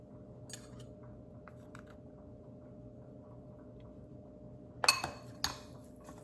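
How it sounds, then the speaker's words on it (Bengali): A high-protein snack with avocado and beet salt is mixed in a bowl with a utensil, mostly quiet at first, then a few sharp metal clinks and scrapes close by near the end. "ভালো করে মিক্স করে নেব।"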